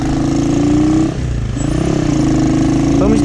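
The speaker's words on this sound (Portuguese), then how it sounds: "Olha na quinta marcha o barulho que acontece." A Honda CG 125 motorcycle engine with a strange noise runs loudly and close in fifth gear, its steady drone dipping briefly in pitch before climbing again, with a faint whine on top.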